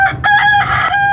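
A rooster crows loudly and close from a rooftop chicken coop, a single drawn-out call with a strong clear tone and slight breaks.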